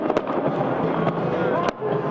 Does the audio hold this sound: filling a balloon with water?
no